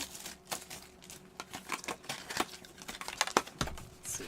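Rapid crinkly rustling and sharp paper-like snaps as Pokémon and Magic: The Gathering card packs are shuffled and handled up close, with no talking.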